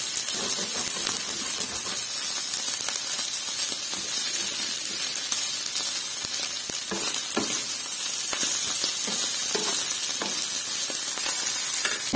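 Sururu mussels fry in a pan, giving a steady, close sizzle with scattered crackles and occasional stirring scrapes, no voices.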